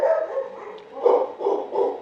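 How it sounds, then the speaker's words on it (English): A dog barks several times in quick bursts, fairly close, with a few rough yips spaced about half a second apart. "sorry for the barking."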